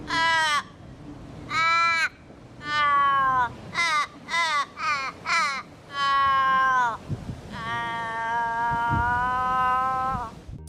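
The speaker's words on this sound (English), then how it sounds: "the new one for us here is the Australian raven" An Australian raven gives a series of drawn-out, wailing calls, some short and choppy, ending in a long descending moan, loud and close.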